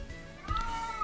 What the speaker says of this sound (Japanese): おお、猫さんだ。